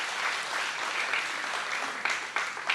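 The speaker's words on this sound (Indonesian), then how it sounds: "Bangkit berdiri, tepuk tangan yang keras buat Tuhan." A church congregation claps loudly and continuously during a sermon service, steady dense applause with a few sharper bursts toward the end, no talking over it.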